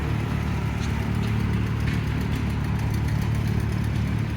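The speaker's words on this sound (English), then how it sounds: "I think it's a sickle mower running back here" An Allis 620 tractor with a small sickle mower runs at a steady idle, a continuous mid-pitched engine drone with a faint chatter on top, heard close and unbroken at a tractor show.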